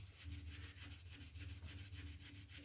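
A stove's glass door is rubbed clean by hand in a quick, regular back-and-forth rhythm, each stroke a soft, close scrubbing swish repeating steadily with no voices.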